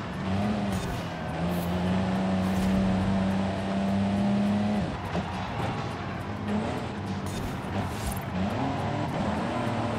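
A Mercedes racing truck in Forza Horizon 5 roars hard and close, its engine note holding then dropping at shifts and climbing again, with rough bumps of contact along the way.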